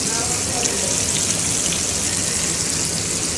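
Chicken pieces fry in hot oil with a dense, steady crackling sizzle that stays even and fairly loud throughout, without pauses.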